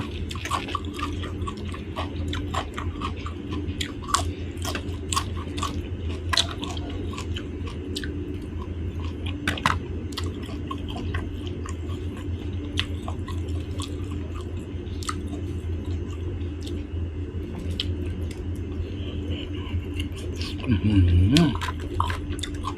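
Someone eats grilled pork close up, with steady, wet chewing, smacking and soft crunchy clicks running continuously throughout.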